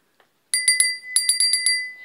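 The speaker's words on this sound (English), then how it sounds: "Just ring the little bell." A small thrift-store decorative bell rings in two quick clusters of bright, close tinkling strikes with a sustained metallic ring that lingers between them.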